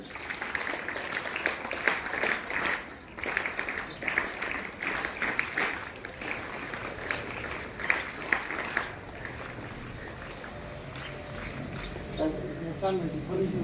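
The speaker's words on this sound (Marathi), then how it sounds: "टाळ्या वाजवा सर्वांनी." An audience claps at a school felicitation in a village gathering, fairly sustained rhythmic applause that continues for several seconds and then fades into murmuring and scattered noise, with people talking over it.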